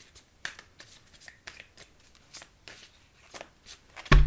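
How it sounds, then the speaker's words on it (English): Tarot cards being shuffled by hand in a quiet room, a steady run of soft, crisp riffling bursts and slaps, ending with a louder clatter. "I'm going to have to shuffle again."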